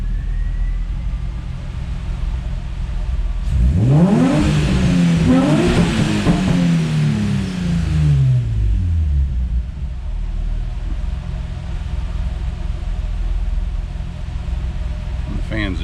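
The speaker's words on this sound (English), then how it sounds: "So it's considerably quieter coming through those other two mufflers." A Nissan Z with a switchable exhaust revs through its mufflers, a loud rumbling sweep rising and falling over a few seconds, then settling back to a low idle.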